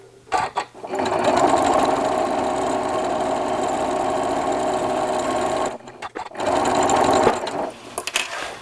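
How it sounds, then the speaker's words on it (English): A sewing machine stitching fabric close up, running in a steady loud whir for several seconds, pausing briefly, then running again in a shorter burst. "I'm just going to start stitching 1/4 inch in from that fold"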